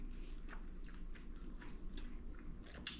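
Boiled shrimp being chewed up close, a few soft crunching bites followed by quiet, moist chewing in a calm room with no talking.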